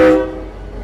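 A short, loud burst of a train horn as a library sound effect, a single blast that cuts off quickly and trails into a fading low rumble.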